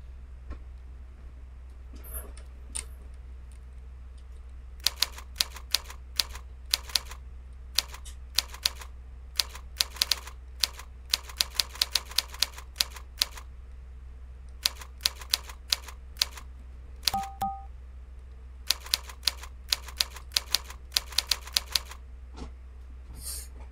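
Touch typing on a keyboard: bursts of sharp, quick key clicks in uneven runs with short pauses between, close and fairly crisp over a low steady hum, with no talking.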